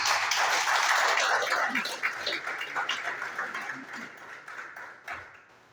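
A church congregation claps and applauds in a dense, steady wash that gradually thins out and fades, with a few stray individual claps near the end.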